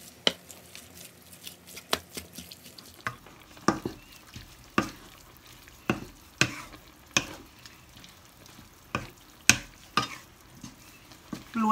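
A utensil scrapes and clacks against a pan as minced duck larb with bone broth is stir-fried, irregular sharp knocks over a soft sizzle, close by, with no talking.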